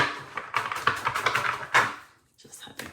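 Tarot cards being shuffled by hand before a love reading, a quick run of crisp riffling taps and soft card slaps close up, pausing briefly before a few lighter flicks at the end.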